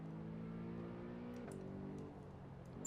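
BMW M3 engine in Assetto Corsa on the Nordschleife, a steady droning note that drops in pitch partway through as the car downshifts, then settles lower, heard close and alone.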